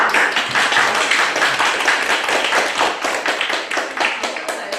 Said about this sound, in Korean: 저희가 박수로 인사